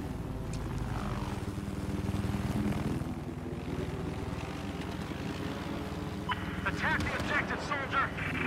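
Hostile jet roaring through a Battlefield 4 match, a broad engine drone rising and swelling over the battlefield din, with players talking throughout.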